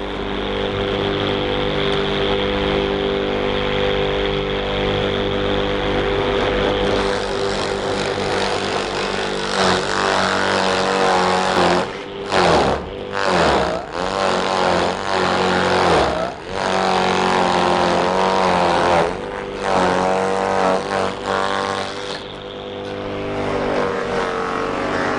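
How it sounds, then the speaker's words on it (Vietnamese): Takyo TK 1.5 grass chopper with a 1.5 kW motor shredding grass: a loud, continuous motor roar with bursts of rough grinding and brief dips as material feeds through, heard up close with no talk. "Bây giờ chúng tôi sẽ băm cỏ."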